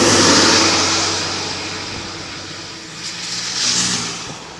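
A car engine while driving near a Nebraska town struck by twin tornadoes, a loud continuous rumble and road roar that eases off midway and then swells again, with no voices.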